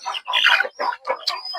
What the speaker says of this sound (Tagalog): Tilaok ng manok ang maririnig natin tuwing umaga